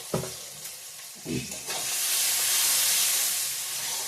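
Chopped onion and tomato frying in a pan with a little salt for a Bengali bottle-gourd and fish-head dish, a steady loud sizzle that swells and holds after a few stirring scrapes, no one talking.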